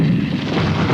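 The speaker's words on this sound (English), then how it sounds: "more artillery becomes available to lay down a heavier barrage" A heavy artillery barrage from British Army forces in a 1983 training film rolls out as a loud, continuous low rumble of booming fire, dense and sustained for about a second.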